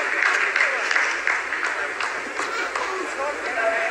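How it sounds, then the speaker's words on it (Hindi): Scientists applaud in a control room during the Chandrayaan-3 lunar landing, a steady patter of clapping from a group that sits under a voice talking over it. "जी हाँ, आप इस तालियों के गड़गड़ाहट को सुन सकते हैं,"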